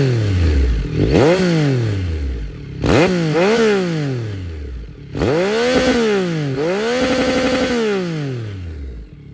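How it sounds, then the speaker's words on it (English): A Yamaha MT-09 SP Gen 4 motorcycle with a CP3 triple engine and a GRMoto aftermarket exhaust, revved sharply several times in close succession. Each rev climbs and falls back toward a rough idle, loud and close, with no talking. "that was GRMoto's exhaust on the CP3 Triple"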